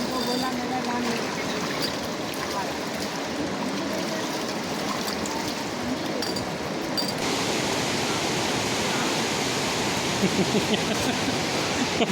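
Rushing river water roars steadily and broadband at the Alaknanda and Bhagirathi confluence at Devprayag, a constant loud wash with no pauses.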